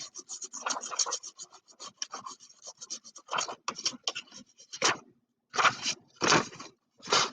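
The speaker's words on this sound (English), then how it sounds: "I'm going to go ahead and just rub the side of my crayon on where the speaker is." The side of a crayon rubs over paper laid on a speaker, making dry rasping strokes in uneven bursts, close and fairly loud, with brief pauses between strokes.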